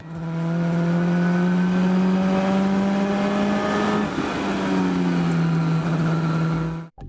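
The DeltaWing race car at Le Mans, powered by a heavily tuned Nissan Juke 1.6 litre turbocharged gasoline engine, drones loudly and steadily at high revs, pitch dipping and rising briefly before cutting off at the end.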